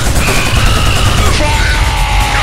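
Gunfire in the video game Killzone, a loud, continuous barrage of rapid shots and battle noise filling the whole stretch without a pause.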